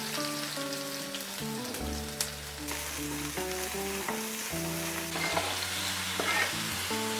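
Ginger, garlic and onion fry together in a pan for a momo dipping sauce, a loud, continuous sizzle with stirring scrapes and crackles throughout, while a steady tonal hum runs beneath.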